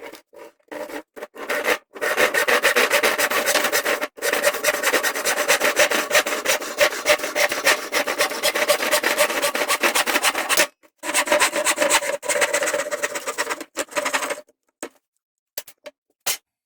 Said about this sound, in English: now we're gonna cut a piece out of this board, which is the same size of this